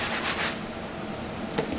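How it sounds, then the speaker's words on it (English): A microfiber cloth towel wipes down a suede Jordan 12 sneaker in a steady soft rubbing, close up, with a brief brushier swipe near the end. "microfiber cloth towel to wipe the shoe down."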